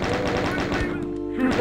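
Double-barrelled shotgun blasts in a Doom game: rapid, punchy thumping shots repeat quickly at close range over a droning game background, with a brief lull near the end.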